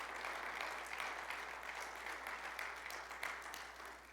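A church congregation claps in praise to the Lord, faint, steady group applause with a low background hum, lasting a few seconds without speech.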